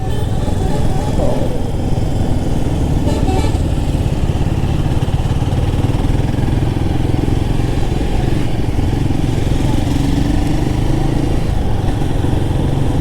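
A Royal Enfield Guerrilla 450 motorcycle rides through traffic in a low gear, its engine giving a steady, close, throbbing drone throughout. Someone talks over the engine the whole time.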